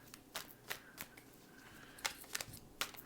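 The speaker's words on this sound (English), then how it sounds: "I'm just pulling some cards for you to see what messages come out today." Tarot cards are shuffled close up in short, quiet riffling bursts, about six of them at uneven intervals, with no talk.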